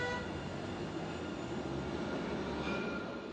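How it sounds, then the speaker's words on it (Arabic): A Jerusalem light rail train in East Jerusalem passing by, a steady broad rumble with a faint high squeal of wheels on track, continuous and moderately distant. "القطار الخفيف في القدس"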